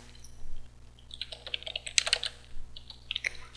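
Close, light clicking of a computer keyboard as a command is typed, irregular quick keystrokes with short pauses, no voices.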